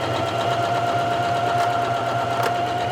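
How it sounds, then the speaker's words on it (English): A Janome HD5000 sewing machine back stitching, running at a steady fast motor whir with a rapid even needle rhythm and a constant high tone, close and alone. "when we hold that in, how it continues to back stitch until I let it go"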